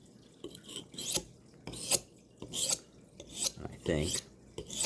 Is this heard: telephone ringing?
no